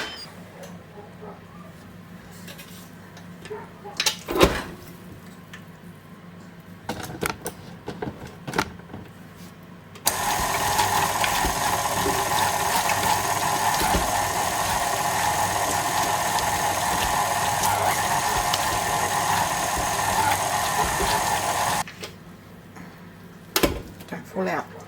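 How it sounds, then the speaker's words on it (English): Kitchen stand mixer churning tough roasted pumpkin pieces for a pumpkin and chicken lasagna, a steady loud motor whir running about twelve seconds alone, with kitchen clatter and handling before and after. "So I'm going to pop them into the mixer."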